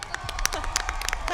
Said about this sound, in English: Big round of applause to all our candidates